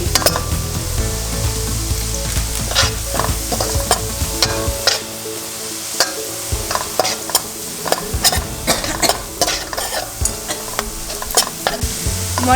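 Curry leaves sizzling loudly in hot oil for fish pickle, a strong crackling fry with bursts of spattering and stirring, close and continuous without any talk.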